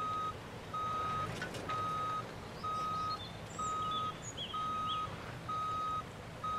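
A truck's reversing alarm in the driving game BeamNG.drive beeps in a steady, evenly spaced rhythm, with faint engine noise underneath.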